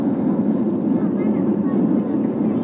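Steady, loud broadband roar of a passenger airplane cabin during a flight from Chennai to New Delhi, a continuous low-heavy engine drone with no breaks.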